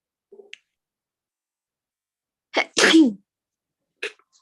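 A single sharp sneeze in a quiet room, preceded by a faint intake and followed by a brief small sound.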